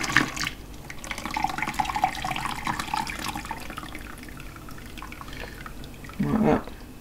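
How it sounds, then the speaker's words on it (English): A cup of tea is poured into a glass demijohn as tannin for banana wine, making a steady liquid splash and trickle that swells briefly near the end. "I'm going to add the tannin now, which is a cup of tea. Just pour it straight into here."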